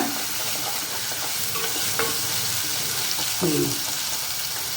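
Coriander powder is stirred in a hot pan with chili powder, giving a steady sizzle and hiss with occasional scraping stirs of a spoon, close and continuous.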